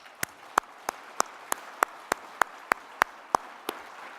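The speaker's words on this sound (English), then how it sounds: "Let's give them a round of applause." Rhythmic clapping from an audience at a peace convention keynote: about a dozen sharp, evenly spaced claps in steady unison, each a crisp snap over a quiet room.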